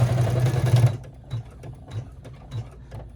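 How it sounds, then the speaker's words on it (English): An embroidery machine stitching loudly for about a second, then stopping, followed by quiet clicking and snipping as its thread cutter works, with faint soft ticks through the rest. "as soon as I hear the thread cutter"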